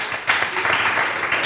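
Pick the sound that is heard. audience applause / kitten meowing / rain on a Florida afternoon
audience applause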